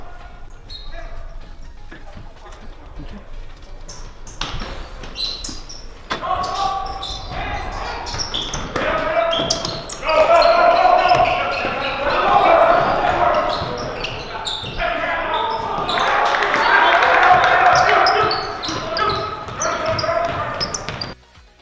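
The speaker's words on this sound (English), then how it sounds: "I believe I hear a ball bouncing. I think there's a basketball game taking place." A basketball bounces in a school gym, thuds repeating over the room's reverberant hum while people talk in the background.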